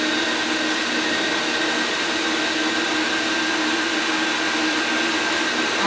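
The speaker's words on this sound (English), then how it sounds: "we're going to grind it on a regular grind." An electric meat grinder on a regular grind works through turkey cutlets, giving a loud, steady motor whine that holds unchanged from start to finish.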